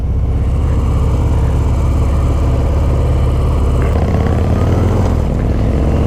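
A 2019 Harley-Davidson FXDR motorcycle engine runs steadily while riding, a loud, low rumbling drone mixed with wind rush, holding a constant throttle with a slight shift near the end.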